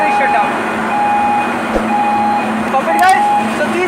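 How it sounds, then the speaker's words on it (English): A marine boiler flame failure shutdown alarm sounds as a steady, repeating electronic tone in an engine room, pulsing at regular intervals over continuous machinery hum, with someone talking over it. "See the flame extinguisher and alarm has come that boiler is shut down."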